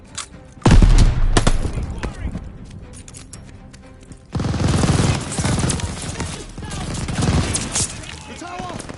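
Machine-gun fire rattles through a video game battle at a bridge and tower, loud dense bursts with booming impacts starting near the second mark, easing, then surging again midway, under shouted voices.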